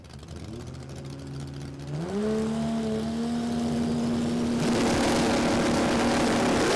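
A drag racing car launches off the line at the Brisbane Jamboree, its engine note climbing in pitch before breaking into a loud, harsh, sustained roar as it pulls away.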